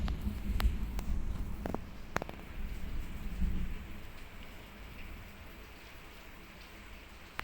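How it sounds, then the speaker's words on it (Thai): Light rain patters softly and continuously, with a few scattered taps and knocks early on before fading to a faint steady drizzle. "คือตอนนี้ฝนตกนะ"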